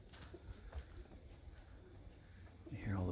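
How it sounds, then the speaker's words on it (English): Pigeons or doves cooing softly in the distance amid quiet outdoor ambience in a state park, with a low, louder coo near the end; a voice speaks faintly. "You hear all the birds cooing down here."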